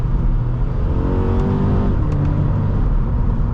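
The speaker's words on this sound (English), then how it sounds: "there's a lot of induction noise too" A 2013 Subaru BRZ engine pulling hard under acceleration, a steady rising drone with strong induction noise heard from inside the cabin, continuous and fairly loud with no talking.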